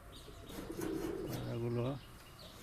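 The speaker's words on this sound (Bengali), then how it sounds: "পায়রাগুলো প্রচণ্ড ভয়ে রয়েছে। পায়রাগুলো নতুন ডিম করা পায়রা।" Frightened nesting pigeons that have just laid eggs, in a breeding loft of flying pigeons, give a close, steady cooing phrase that swells over about a second before stopping, with faint loft noise around it.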